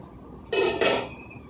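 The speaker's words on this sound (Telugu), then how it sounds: "మూత అయితే పెట్టుకుందాం." A metal lid is set onto a cooking pot of mango pulusu in two quick, close clanks, ringing briefly and then fading into quiet.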